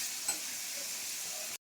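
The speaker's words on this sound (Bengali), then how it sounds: "এখানে মাছ ভাজা হচ্ছে" Fish with turmeric frying in hot oil in a home kitchen, a faint, steady hiss of sizzling with a brief crackle early on, heard alone before it stops.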